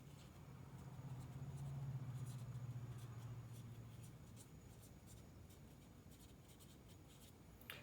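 Pen scratches on a digital tablet as a calculus lesson on implicit differentiation is worked out, a series of light, dry strokes and taps spread across a faint background hum, with no talking.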